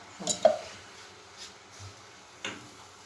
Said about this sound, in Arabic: نبدا نخلط هذاك لو كراميل تاعي بالعقل بالعقل حتى لوين ندوبو في هذاك الماء.